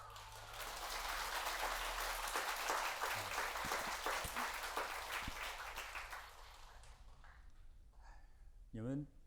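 An indoor audience at a meditation and wellness talk claps and applauds in a dense, sustained burst that fades after several seconds, followed by a voice speaking briefly.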